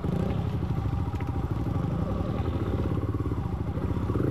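A Yamaha WR 150 dirt bike labours over a rocky trail, its engine chugging in a rapid steady pulse close by while loose stones clatter and thump underneath.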